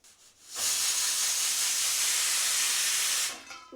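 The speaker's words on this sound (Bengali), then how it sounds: "ডালে কিন্তু আমার ছিটি পড়ে গিয়েছে একটা আর একটা পড়বে এখন" A pressure cooker cooking dal lets out one sustained, loud, hissing steam whistle lasting about three seconds, starting and stopping abruptly against a quiet background.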